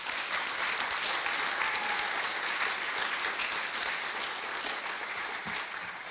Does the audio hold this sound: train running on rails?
no